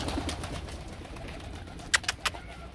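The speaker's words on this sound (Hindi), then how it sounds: "बाकी ये हमारे कुछ कबूतर हैं" Pigeons coo softly in a loft under low background noise, then a few short, sharper calls burst out close by near the end.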